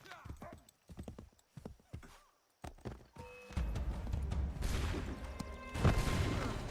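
Horse in Assassin's Creed III Remastered, a string of sharp hoof clops on hard ground, then a loud whinny and crashing commotion, close and prominent with a voice briefly audible.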